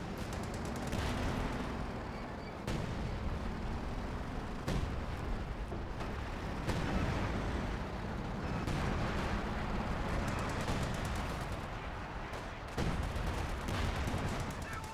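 Artillery fire in the WWII strategy game Company of Heroes 2, with repeated heavy booming impacts every couple of seconds over a constant rumble of battle and scattered smaller gunfire.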